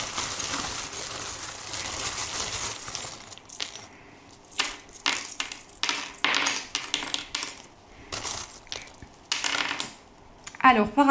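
Small divination charms are handled and cast, giving a run of light metallic clinks and clatters in irregular bursts separated by brief pauses. The sounds are close and alone, with no voices.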